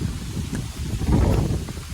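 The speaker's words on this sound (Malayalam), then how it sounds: "ഇത് നല്ല നല്ല കാറ്റാണ്" Strong wind gusts buffet the microphone with a low, rumbling roar that rises and falls over a couple of seconds.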